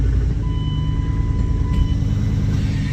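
A stock Dodge Durango on five-foot-tall tires with two-foot wheel spacers crawls in first gear, two-wheel drive, at about 1100 RPM. A steady, close, deep engine rumble drones throughout, with thin high tones riding above it.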